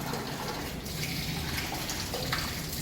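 A steady stream of hot water pours from the tap of a low-budget instant electric water geyser, gushing evenly and continuously at close range with no talk.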